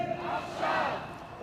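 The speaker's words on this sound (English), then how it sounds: "the crowd is responding by saying now, to release each one now" Thousands of protesters at a weekly rally in Israel demanding the hostages' release shout a short unison chant, a broad roaring swell from a large crowd heard at a distance.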